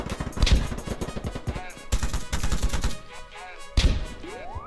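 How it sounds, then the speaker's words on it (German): Rapid bursts of automatic gunfire crackle through a Polygon match, dense volleys in several clusters with brief lulls between, loud and close, a rising whine near the end. "Ich glaube, der ballert einfach wirklich rum."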